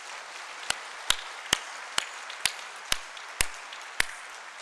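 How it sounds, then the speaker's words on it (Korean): A church congregation claps for the choir in a sanctuary: eight crisp claps in unison, evenly spaced about half a second apart, each ringing briefly in the room over a quiet background. "우리 찬양대 한번 큰 박수로 한번 축복해 주십시오"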